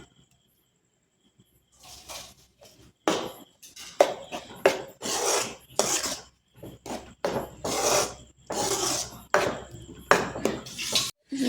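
A spoon stirs mango pachadi with ground coconut paste in a cooking pot, making repeated close rasping scrapes in uneven strokes with short pauses between them and no talking.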